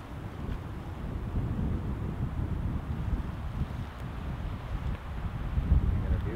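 Wind gusting outdoors beside a tiny spring creek, a steady low rumble and buffeting against the microphone throughout, fairly faint with a slightly stronger gust near the end.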